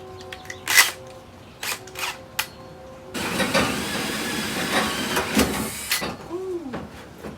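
A battery drill drives a 2-inch hole saw through material for a small aquaponic setup, a close, steady grinding whir running for about three seconds after a few sharp clicks and handling knocks.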